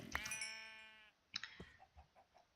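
Sheep in the video game Minecraft bleat twice, a long wavering bleat followed by a shorter one, each clear and close, with a few soft thuds trailing afterward.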